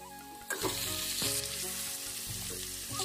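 Spices fry in hot oil until brown, a steady close sizzle with stirring and a sharp utensil clatter near the start, no talking.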